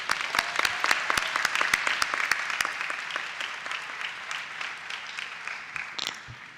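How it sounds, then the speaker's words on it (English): An academic excellence awards ceremony audience applauds honorary degree recipients, a steady crowd of clapping hands that slowly thins and fades toward the end, with a brief bump of noise near the close. "Let's have another round of applause for Ms. Lewis and Ms. Meltzer."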